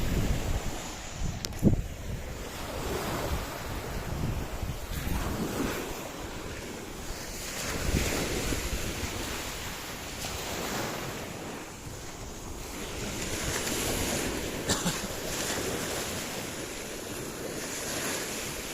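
Sea waves breaking on an island shore, a steady surf wash that swells and recedes over wind noise buffeting the microphone, moderately loud and continuous with no talk.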